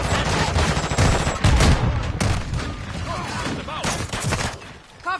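Loud, dense gunfire from the Modern Warfare 2 video game, rapid automatic bursts and booming shots mixed with shouted voices, continuing almost without pause.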